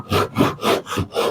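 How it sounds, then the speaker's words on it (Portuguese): A Japanese pull saw cuts through wood in five even, rhythmic rasping strokes, close and fairly loud, with no voices. "O próprio serrote vai fazendo o corte"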